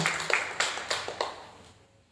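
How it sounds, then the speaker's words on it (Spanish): A short smattering of applause for writer Perla Santos at a literary festival panel: a handful of distinct claps, spaced out and fading quickly to quiet within about two seconds. "Muy fuerte el aplauso para la escritora Perla Santos"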